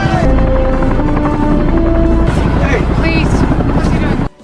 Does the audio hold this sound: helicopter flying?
yes